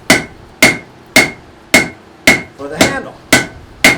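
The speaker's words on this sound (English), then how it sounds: "So I'll put it on the anvil and I'll start squashing it quite a lot to make it thin like I need to be" A blacksmith strikes a hot iron handle on an anvil, eight sharp ringing hammer blows at a steady rhythm about two-thirds of a second apart, close and loud, with a brief spoken phrase between strikes.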